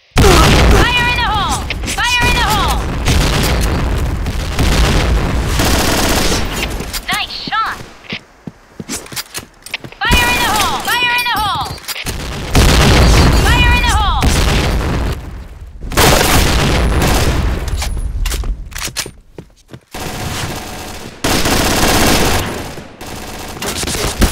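Grenade blasts and rattling automatic gunfire from a first-person shooter game, loud and nearly continuous with heavy booms and rapid bursts, broken by a few brief lulls, with voices talking over the action.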